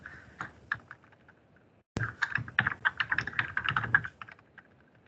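Typing on a computer keyboard in a classroom, a few scattered keystrokes followed by a steady, quicker run of close, light key clicks.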